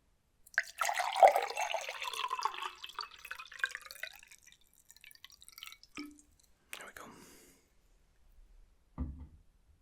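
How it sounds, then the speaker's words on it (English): Ice-cold water is poured close up into a glass during a deep tissue massage ASMR session, one soft gush lasting a few seconds followed by quiet drips and a few small taps and clinks. "So I'm going to pour you a glass. This water is ice cold, so be warned."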